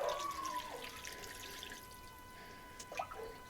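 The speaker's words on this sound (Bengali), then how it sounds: "তো এখানে আমি পানি দিয়ে দিব।" Water trickles and drips into a bowl of marinated chicken, soft and close, with a faint steady hum underneath and a small splash near the end.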